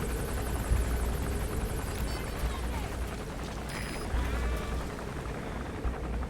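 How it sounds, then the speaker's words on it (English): A helicopter arriving in the video game Metal Gear Solid V: The Phantom Pain, a steady rotor thrum with rumbling low end and some scattered game sound effects layered on top, no clear speech. "A tactic here is calling our helicopter"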